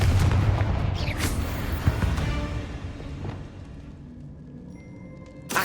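In the Hogwarts Legacy video game, a Confringo fire spell bursts with a loud booming explosion that rumbles and fades away, followed by a sharper hit at the end.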